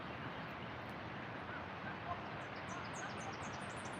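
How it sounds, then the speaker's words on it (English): Geese honk faintly and far off by a river, their short repeated calls arriving in the last couple of seconds over a steady wash of rushing background noise. "I hope those geese know where they're going."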